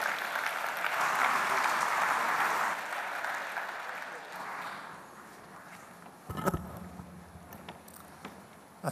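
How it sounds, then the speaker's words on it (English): A conference audience at an investment event applauds for several seconds, the clapping broad and full at first, then thinning out, followed by a few thumps and footsteps in the hall. "A round of applause once more."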